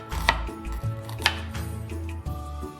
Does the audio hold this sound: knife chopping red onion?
yes